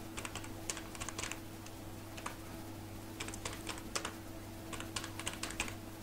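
A name is typed on a computer keyboard in quick bursts of soft clicking keystrokes with short pauses between, close and fairly quiet over a steady low hum.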